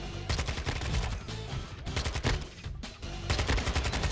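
Dense automatic gunfire from the Modern Warfare 2 video game rattles almost continuously in loud, rapid bursts, pausing briefly only a few times before the shooting resumes.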